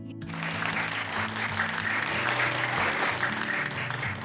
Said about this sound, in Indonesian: Beri tepuk tangan semuanya untuk.